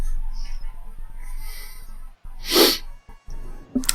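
A single loud, close sneeze bursts out after a stretch of low background murmur, followed by a brief sniff or breath.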